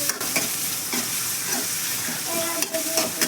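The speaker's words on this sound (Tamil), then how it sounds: "அது கூடவே வெங்காயமும் தட்டி வச்ச பூண்டும் சேர்த்துட்டு காஞ்ச மிளகாய் ஒரு 2 போட்டுக்கோங்க." Onion, crushed garlic and dried chillies fry in a pan for a Tamil sirukeerai kootu, with a close, continuous sizzle and short stirring scrapes.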